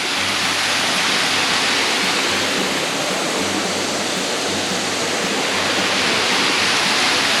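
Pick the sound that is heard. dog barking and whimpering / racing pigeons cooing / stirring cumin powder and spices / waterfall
waterfall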